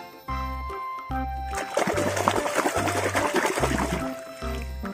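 Water sloshes and splashes in several bursts while plastic toy animals such as an elephant are washed, with a low rhythmic tone repeating underneath and no talking.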